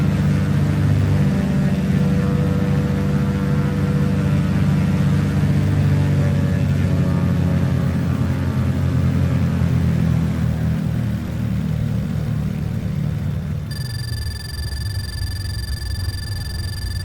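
Carenado SkyMaster twin-engine aircraft in the Prepar3D flight simulator, its steady loud engine drone gradually dropping away as the throttle is pulled back, leaving a quieter hum with a thin electronic tone near the end.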